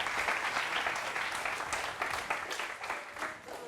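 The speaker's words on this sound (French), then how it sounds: "Ça s'applaudit, s'il vous plaît" An audience at a live French dating-game show breaks into steady applause, dense clapping that is loud and sustained, then slightly tapers toward the end.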